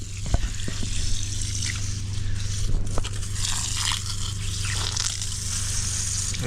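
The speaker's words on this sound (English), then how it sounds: "I'm getting water out of the van, which is so sick." Water trickling and splashing from a camper van's fresh water system, an irregular running flow with small drips and spatters over a constant low pump hum, no voices.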